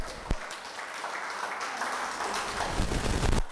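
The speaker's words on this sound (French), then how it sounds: "Reçois, Seigneur, ces acclamations" A worshipping congregation applauds and acclaims together during a church service, with steady clapping and raised voices filling a large room, building louder toward the end.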